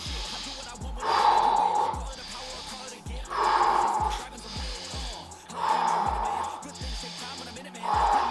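Breathing during a home upper-body workout: four long, forceful exhales come at a steady, even pace, close and breathy, with quiet inhales between them over faint background music.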